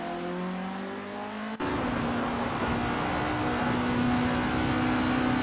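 Loud, steady engine roar of video game formula racing cars, with a sharp gear shift partway through and sustained high revving throughout.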